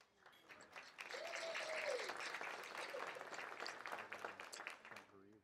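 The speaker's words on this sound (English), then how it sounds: "Let's give him a round of applause, please." Applause from a banquet audience fills the room for about five seconds, steady and fairly loud, with a few voices and whoops mixed into the clapping before it thins out.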